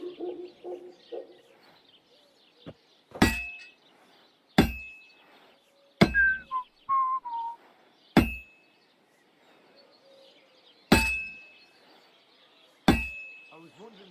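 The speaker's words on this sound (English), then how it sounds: "Now take the hammer and try hitting it a few times." Hammer striking a sword on an anvil in Kingdom Come Deliverance 2, six sharp ringing metallic clangs spaced a second or two apart, with faint background sounds and a short tonal chirp between strikes.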